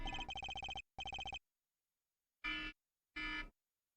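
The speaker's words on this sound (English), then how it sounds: "That was my phone going off." A phone rings, starting with two bursts of rapid electronic trilling, then after a pause two longer single buzzing tones, loud and close with silence between them.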